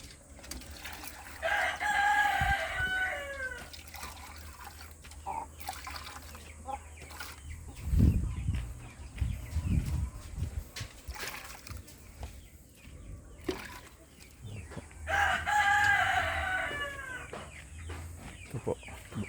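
Chickens in a backyard coop: a rooster crows twice, once early and once late, with scattered clucks, shuffling and low thumps in between.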